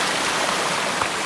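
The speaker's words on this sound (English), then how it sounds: "Made it across that one without putting my feet in the water." A shallow stream on a hiking trail rushes steadily at close range, a loud continuous broadband wash of flowing water with no voices.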